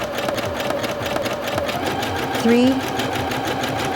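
A Singer Featherweight C240 sewing machine stitches at its lowest speed, a steady close mechanical whir with a rhythmic needle tapping, running under a person talking.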